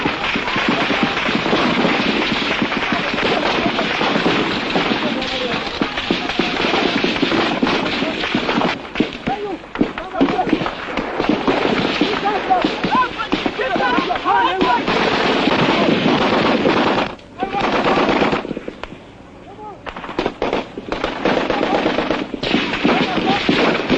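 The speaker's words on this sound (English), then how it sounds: "the Biafran troops fire blindly at enemy positions they can scarcely see" Biafran troops fire blindly at enemy positions: loud, dense bursts of machine-gun and rifle fire crackle almost nonstop, with a few brief lulls, while a voice speaks over the shooting.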